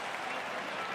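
Faint, brief patter of Giants fans clapping in the stands at a Mariners versus Giants baseball game, a continuous distant wash of applause.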